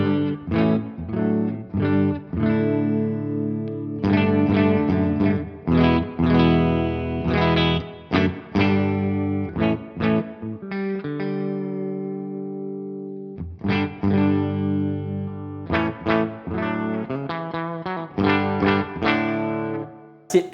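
An electric semi-hollow guitar with humbuckers and late-1960s Gibson-style nylon saddles, an alternative to the Gibson ES-335, is strummed and picked through effects, giving loud, chorused, slightly distorted chords with brief pauses between phrases.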